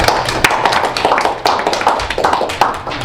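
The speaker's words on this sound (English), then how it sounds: "What are we clapping for?" Audience applause at a Toastmasters club meeting, a dense patter of many hands clapping close by, steady and loud for about three seconds with no voices.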